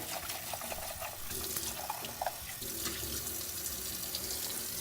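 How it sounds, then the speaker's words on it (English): Water runs steadily from a tap with splashing and gurgling as an espresso machine carafe is rinsed, continuous throughout at a fairly close distance. "We're going to give our carafe just a rinse here."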